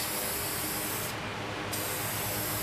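Adhesion promoter sprayed from a can onto textured plastic, a loud, steady, close hiss that dips briefly in the middle of the pass.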